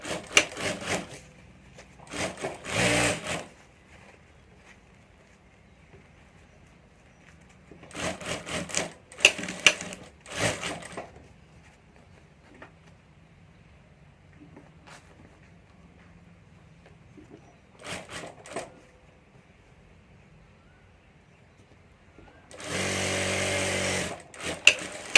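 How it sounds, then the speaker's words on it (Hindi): Sewing machine stitching the side seams of a handmade hand bag, joining the two panels, running in several short bursts with quiet pauses between and a longer final run, close and alone. "यहाँ से मैं सिलाई करके दोनों पार्ट जोड़ देता"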